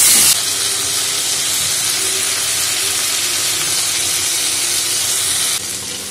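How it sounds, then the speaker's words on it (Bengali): Prawns fry in mustard oil with a loud, steady hiss and sizzle that holds evenly for several seconds and drops slightly at the very end. "প্রথমেই আমি চিংড়ি মাছটা ভেজে নেব, আর পুরো রান্নাটাই আমি করব সর্ষের তেলে।"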